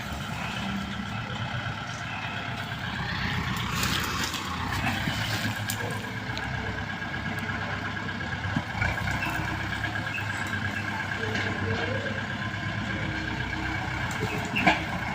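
An old farm tractor engine runs while clearing grass, giving a continuous close rumbling drone with a shaky low throb that holds steady throughout, with no talking.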